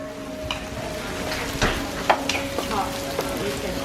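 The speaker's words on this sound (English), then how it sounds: "crack the egg in and stir. Keep stirring." Egg and meat stirred in a frying pan for pad thai at an outdoor cooking session: steady sizzle with scattered spatula scrapes and clicks, a faint background hum, no speech.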